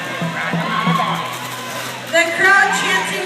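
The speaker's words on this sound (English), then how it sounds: "The crowd chanting, "We want tacos."" A roller derby crowd chanting "We want tacos" in a rhythmic group call, rising louder toward the end amid shouts and whoops, with talk over it.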